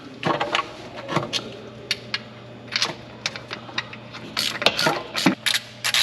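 A ratchet wrench tightening bolts on a Jeep transmission case, heard as several bursts of rapid close clicking separated by brief pauses, with no talking.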